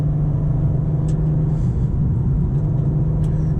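Steady engine drone and low rumble from a 2023 BMW M2 with an 8-speed automatic, cruising on a twisty road with off-camber turns, with a constant hum throughout and no talk.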